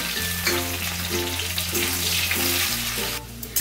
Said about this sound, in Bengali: দেখো ঘিয়ের মধ্যে আমি কাজু কিশমিশটা একটু ভেজে নেব।